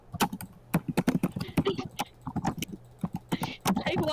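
Typing on a computer keyboard right beside the microphone, a rapid irregular run of sharp, close key clicks, loud and dry, continuing throughout.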